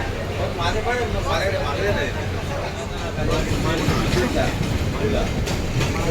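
An almost empty Mumbai suburban local train runs at night after leaving CSMT, heard from inside as a loud, continuous rumble with rattling and wheel clatter, and a voice talking over it.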